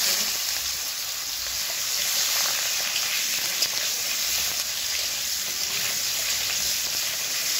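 Black cumin seeds and boiled seeded bananas sizzling in hot oil with a dried chilli, a steady close crackling hiss throughout with no pauses.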